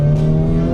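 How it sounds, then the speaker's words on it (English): A 2023 Honda Civic Type R with a 2-liter inline-4 accelerating, its exhaust a loud, steady tonal drone heard briefly from inside the cabin. "You can definitely hear that exhaust in here too."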